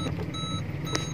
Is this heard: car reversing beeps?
yes